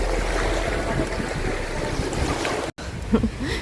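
Wind and waves along the shore of the Cherkasy Sea reservoir, a steady broadband wash that runs loud and unbroken, stops for an instant, then comes back with a few faint low knocks.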